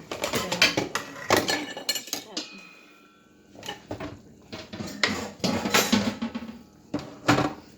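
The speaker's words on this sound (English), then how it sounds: "Come work on these dishes after." Dishes and cutlery clink and clatter in a kitchen sink in bursts of sharp metallic and ceramic knocks, with a short lull midway, while a person talks over them.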